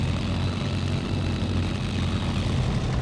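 Aircraft landing on a runway in IL-2 1946, a steady droning propeller engine held at constant loudness, close and unbroken, with no talking.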